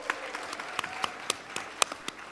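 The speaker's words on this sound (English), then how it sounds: "A round of applause." Scattered, thin applause from a conference audience at an opening plenary session, with individual claps popping out irregularly over a soft roomy wash, faint and somewhat distant.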